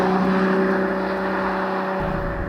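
A Ferrari 12Cilindri V12 engine revs on the road, giving a brief, loud, smooth high-pitched drone with sustained tonal harmonics over road roar.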